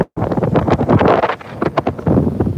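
Strong wind of about 25 miles an hour buffets the microphone on the deck of a new Moon 60 power catamaran, loud gusty rumbling that rises and dips in bursts.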